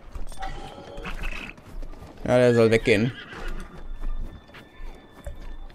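A horse in The Legend of Zelda: Breath of the Wild gives a loud whinny in the middle, with hoof clip-clops around it while someone speaks German before and after.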